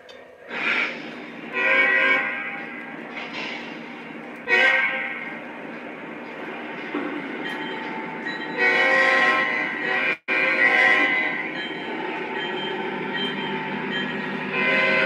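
A Lionel model train with an SD40-2 locomotive sounds its horn in repeated multi-tone blasts, some short and some long, over a steady running hum.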